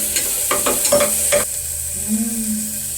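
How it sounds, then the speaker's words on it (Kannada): Onion and green chillies frying in a hot pan, a constant loud sizzle with several scraping stirs early on, then the hiss carries on alone with no talking. "ಈರುಳ್ಳಿ ಆ್ಯಂಡ್ ಹಸಿಮೆಣಸನ್ನು ಹಾಕಬೇಕು. ಸಿಕ್ಕಾಪಟ್ಟೆ ಕಾರಿತ್ತು, ಸೌಂಡ್ ನೋಡಿ."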